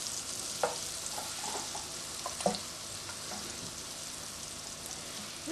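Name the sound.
pork medallions frying in a pan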